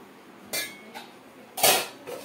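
A spoon scoops cooked rice from a metal pot, giving a few sharp metallic clinks and scrapes, two of them louder, against a quiet background.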